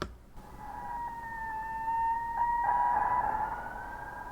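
Pre-rendered synthesized screech layer for water-themed horror sound design, played soloed: a steady, piercing high tone that holds and swells slightly in loudness, with a faint upper harmonic line and no voices.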